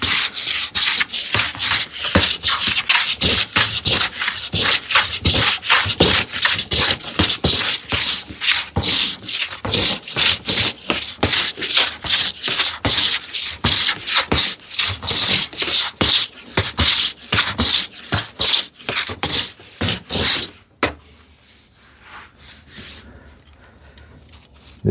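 A hand plane with a lighter set smooths a wooden board for a TV unit, working away bandsaw marks and low spots in steady rhythmic swishing strokes, close and loud, each pass a rasping hiss, before the strokes stop near the end.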